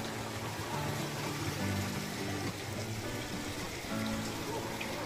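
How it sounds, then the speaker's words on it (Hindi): Water trickles and drips steadily inside a Shiva temple, a soft continuous splashing wash with faint low murmurs of people in the background. "पानी भी टपक रहा है"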